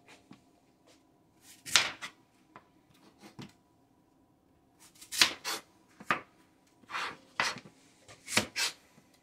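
A knife chops through apple pieces on a board in sharp, close strikes, a few isolated cuts followed by a quicker cluster of chops, with quiet gaps between.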